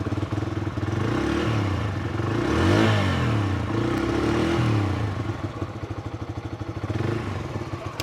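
Bajaj Freedom 125 NG04 CNG motorcycle switched to petrol, its single-cylinder engine idling with a steady close exhaust putter that swells into a couple of revs before settling back.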